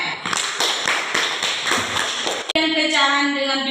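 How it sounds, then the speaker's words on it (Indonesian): A classroom of students claps for a classmate named Farek, with a quick run of close, uneven hand claps and taps that stops abruptly, followed by a voice speaking. "Beri tepuk tangan untuk Farek."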